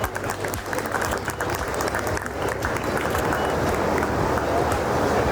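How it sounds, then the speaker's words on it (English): Audience applause at an awards night, steady dense clapping from a crowd, fairly loud and continuous throughout with a faint murmur of voices underneath. "Guys, please give a huge round of applause"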